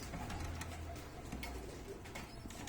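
Hungry young pigeon chicks calling faintly with soft coos and cheeps over a steady low background hum, with no voices.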